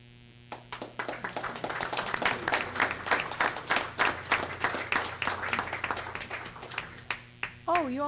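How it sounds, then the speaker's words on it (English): A seated audience at a village board meeting breaks into sustained applause, many hands clapping in a dense, steady patter that carries on for several seconds before tapering off. "let's give a round of applause to these businesses and to all the business in Skokie who helped make this a wonderful place to live"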